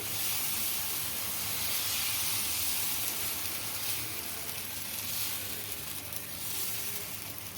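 A puffed-rice dosa made without lentils sizzles on a hot pan, browned on both sides, giving a steady, even hiss throughout at moderate level.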